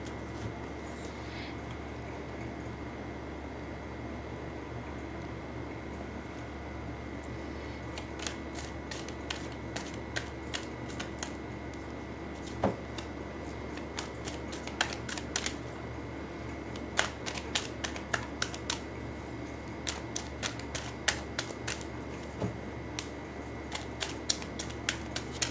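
Tarot cards shuffled and pulled from a deck, a run of soft, quick clicks and flicks that start sparse and grow denser over a steady low room hum, with no talking.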